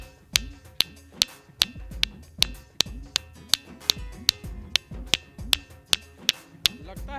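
Repeated sharp strikes on a rock of a hill in Bihar, India, roughly twice per second, each giving a bright metallic ring, with faint background murmur between hits.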